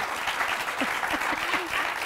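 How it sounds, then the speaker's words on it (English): Dense, steady audience applause fills the room for the full stretch, with a few brief voices calling out over the clapping. "That deserves a mighty clap."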